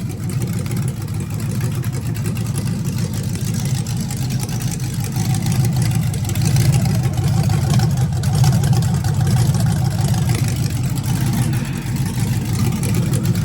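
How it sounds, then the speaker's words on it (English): A truck engine idling after being started, a steady low rumbling drone close by that swells slightly midway, with no other sounds over it. "Got the motor started"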